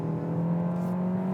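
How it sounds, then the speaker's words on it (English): A 2021 Kia K5 sedan's engine pulls hard under acceleration, giving a steady, gruff, beefy drone that holds close and loud with no pauses and no talking over it. "This engine also has a slightly gruffer,"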